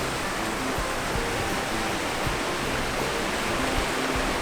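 Steady broadband wash of surf rolling onto Kata Beach in Phuket, Thailand, a constant close roar with no distinct wave breaks and no voices.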